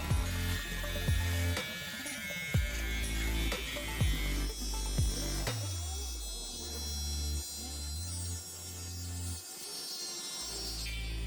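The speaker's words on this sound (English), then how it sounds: "turn the clipper on, and just match the other side." Electric hair clipper trimming a beard, its steady buzzing hum running close and continuous, broken by a few short sharp taps and shifts in pitch as it moves over the hair.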